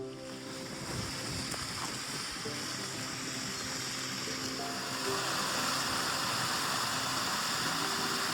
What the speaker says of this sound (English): I think I hear a waterfall up here